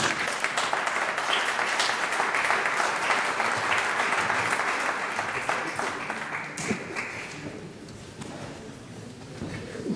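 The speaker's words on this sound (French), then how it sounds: "Je vais vous demander de pouvoir applaudir les quatre personnalités." Sustained applause from a conference audience greeting four speakers at a European trade-association event, steady dense clapping that fills the room and gradually thins and fades toward the end.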